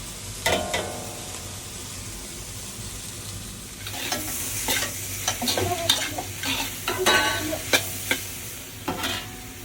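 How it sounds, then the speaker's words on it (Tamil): Bitter gourd with coconut being stirred in a pan, a soft sizzle joined by repeated scraping and clattering spoon strokes that grow busier and louder after the first few seconds. "நான் கிண்ட போகிறேன்"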